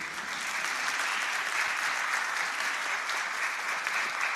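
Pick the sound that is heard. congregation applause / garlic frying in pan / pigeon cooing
congregation applause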